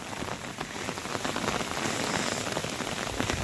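Light, fine rain in the Konkan countryside patters steadily on surfaces, a dense even hiss of countless small drops, close and continuous, with no voices.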